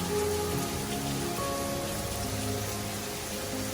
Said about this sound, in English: if it's going to rain this hard